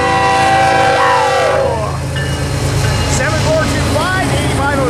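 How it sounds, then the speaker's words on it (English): A grain train passes at Mojave, opening with a loud, close horn blast. The horn gives way to heavy rolling clatter of the cars, while excited voices cheer over it. "and here comes a grain train."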